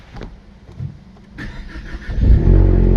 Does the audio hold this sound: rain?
no